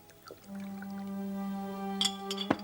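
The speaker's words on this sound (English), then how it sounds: "He moves across to the chest by the door and pours himself a glass of sherry." Sherry pours from a bottle into a glass with a steady, ringing trickle that rises slightly in pitch as the glass fills. A couple of faint clinks of glass come at the end in a quiet room.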